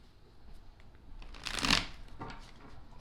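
Tarot cards being shuffled, a soft riffling burst that swells to a crisp peak midway and then fades into lighter rustles, close and fairly quiet with no talking.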